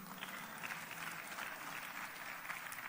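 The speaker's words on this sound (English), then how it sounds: "And I will give you a round of applause," A round of applause fills a parliamentary chamber, the South African National Council of Provinces, as steady, dense clapping from many hands that holds evenly throughout.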